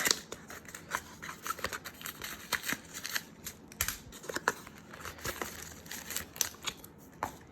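Cardboard box for an Insta360 Go action camera being opened, with a busy run of crinkling, rustling and scraping packaging sounds close to the mic, alone and with no talk.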